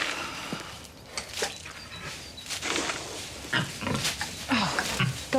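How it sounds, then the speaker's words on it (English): Pigs grunt while being fed, with a series of low snorts and short grunts at moderate distance, scattered irregularly over a rustling, shuffling background. "Is that before or after I feed the pigs?"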